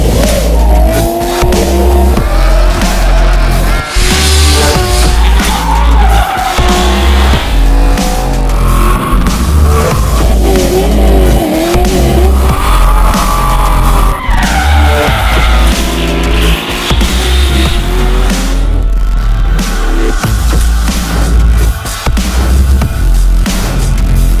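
Drift cars skid and rev through a round of the D1NZ national drifting championship at Hampton Downs, with loud continuous engine roar and long tyre squeals close by, no talk over it.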